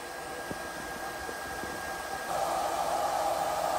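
A solar-powered tankless pressure pump runs with a steady, airy hum and faint mechanical whir, growing slightly louder and fuller partway through, with a few small knocks early on and no talking.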